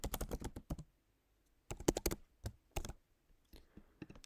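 Password entry on a computer keyboard comes through as quiet, close keystroke clicks in quick bursts separated by short pauses, with no talking.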